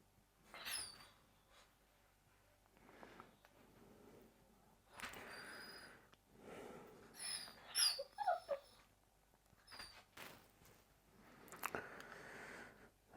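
Dog close by, making faint whimpers, snuffles and mouthing, chewing noises in a quiet indoor room, with scattered soft movement sounds.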